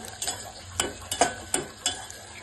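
Eggplant and vegetables lightly frying in a pan, with a steady sizzle under a series of close, rhythmic stirring scrapes, about six or seven strokes in a couple of seconds.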